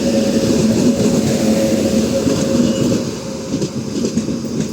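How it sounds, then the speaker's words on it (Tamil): Hubli–Karaikudi special passenger train arriving at a station, a loud, steady rumble of rolling carriages with rhythmic wheel clatter throughout, close by and easing slightly toward the end, with no voices. "இந்த ஸ்பெஷல் ட்ரெயின் இன்னைக்கு வருது"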